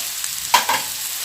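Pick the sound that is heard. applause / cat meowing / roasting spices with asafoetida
roasting spices with asafoetida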